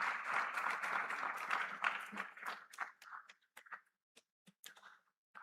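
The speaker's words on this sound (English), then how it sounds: "Please, can we keep clapping for him as he makes his way across?" Sustained applause from a conference audience at an African business summit as a speaker walks to the stage, dense at first and then thinning into scattered individual claps before fading out.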